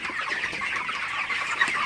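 Broiler chickens at about thirty days old cluck and murmur together in a poultry shed at night, a dense, continuous flock chatter at moderate level with no distinct single call standing out.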